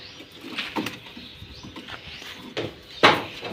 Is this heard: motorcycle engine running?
no